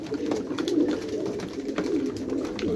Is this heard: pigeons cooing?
yes